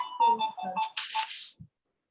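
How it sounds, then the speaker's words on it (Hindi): A phone ringtone plays in a repeating electronic pattern during a lesson, loud and close for about a second and a half, then cuts off into silence. "अरे ये फोन की आवाज मत आने दो।"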